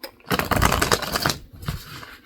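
A deck of tarot cards shuffled up close, a dense riffling flutter that is loud for about a second, then a few softer card rustles, with no voices.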